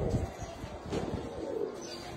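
A female pigeon coos in soft, low, throaty bursts close by, a few rumbling coo notes over quiet rooftop background.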